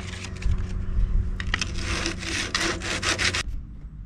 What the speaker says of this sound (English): I'm ready to use my coarse sandpaper. So I'll do a bit of that first